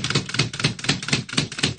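Keys of an antique 1919 Woodstock typewriter strike in a steady, even rhythm, about a dozen sharp mechanical clacks close to the microphone with no voices.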